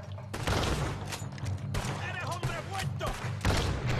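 Rapid gunfire including shotgun blasts in the Western video game Red Dead Redemption 2, dense booming shots in quick succession over a chaotic battle bed, with a voice speaking over it.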